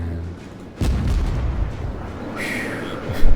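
Warship main guns fire and shells explode in World of Warships, a deep heavy boom followed by a rumbling roll and a second burst near the end.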